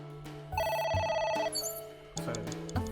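A phone rings in AI: The Somnium Files video game, with bright electronic trilling bursts repeating in a steady pattern over a low musical backdrop, loud and close, with no talking.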